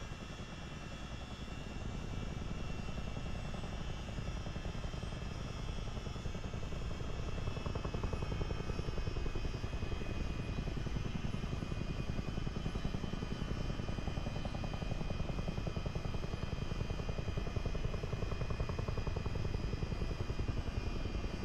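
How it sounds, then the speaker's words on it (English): A helicopter's engine and rotor drone steadily in Microsoft Flight Simulator 2020, a continuous, even whine and low rumble that holds unbroken and fairly quiet from start to end, with no talking. "this is still a really fun helicopter. It sounds great."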